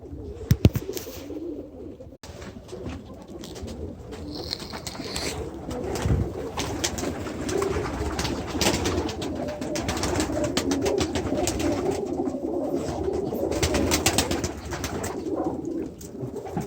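Pigeons coo steadily throughout, a soft continuous murmur of several birds nearby, with a couple of brief sharp knocks near the start.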